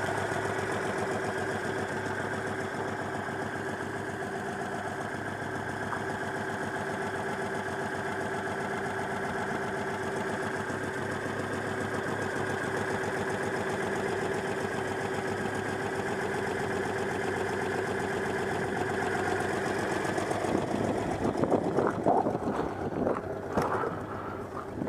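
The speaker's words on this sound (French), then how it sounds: "Le moteur ne vibre pas du tout, d'habitude il a plutôt tendance à vibrer au ralenti" A Citroën 2CV air-cooled twin engine idling smoothly and evenly, a steady close mechanical hum holding for the whole stretch, with some added rustle and knocking near the end.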